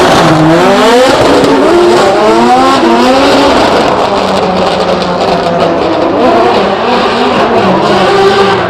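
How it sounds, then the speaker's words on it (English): Drift car squealing its tires during a night practice session at Drift Masters in Germany, a loud sustained screech over a revving, wavering engine that rises and falls continuously. "Warming up the tire with Kaisade and Juha Pöytälaakso."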